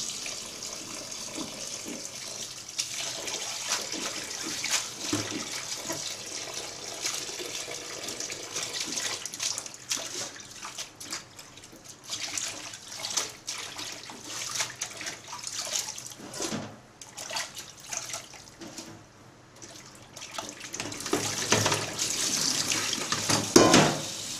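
Vegetables being rinsed under a running kitchen tap, a steady splashing stream of water with shifting splatter as the greens are handled, close and continuous throughout.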